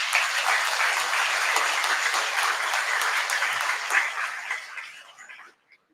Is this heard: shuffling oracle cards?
no